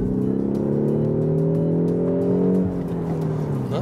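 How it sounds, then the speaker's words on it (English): Peugeot 308 GT 205 hatchback interior engine sound from its synthetic sound generator, a steady loud engine drone with rising harmonic tones as the car accelerates, alone without talk. "Now you hear that there's a special sound generator here for the interior."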